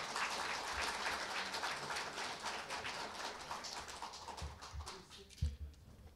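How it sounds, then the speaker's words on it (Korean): Applause from a group at an award ceremony during a district office staff meeting, a dense steady patter of clapping that thins and fades toward the end, with a few low thumps near the close. "축하의 박수를 보내주시기 바랍니다."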